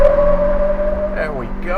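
A Ford Bronco with the 4-speed automatic pulls hard from a standstill in sport mode with traction control off, its engine note climbing steadily and then shifting, loud and close, with a voice briefly over it.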